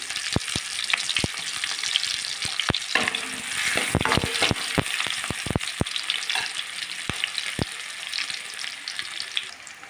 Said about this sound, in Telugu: నూనె వేడెక్కింది కాబట్టి ఉల్లిగడ్డ వేసుకుంటున్నా. ఉల్లిగడ్డ కొద్దిగా ఎర్రగా మగ్గనివ్వాలి.